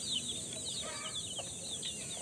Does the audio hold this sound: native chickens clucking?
yes